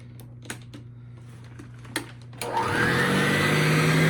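A few faint clicks and taps, then the small 4-amp motor of a 1978 Eureka Model 2097A upright vacuum cleaner whirs up into a steady, loud, high-pitched hum that keeps running.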